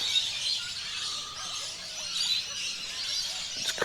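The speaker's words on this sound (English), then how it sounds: "And listen to the bird life." Wild birds call faintly from a distance at about 6:30 on a cool, misty morning beside an old rail station on a rural rail trail, thin chirps scattered over a constant hiss of background noise.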